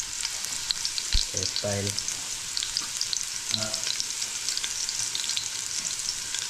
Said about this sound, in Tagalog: unahin ko yung bawang para babango po yung mantika